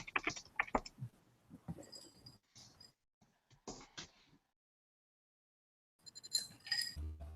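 Computer keyboard typing in irregular bursts of clicks and keystrokes, fairly quiet and close, with pauses and a stretch of silence midway.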